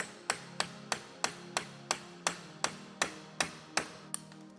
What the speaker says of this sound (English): you're gonna have to take a punch and a hammer and just very gently but firmly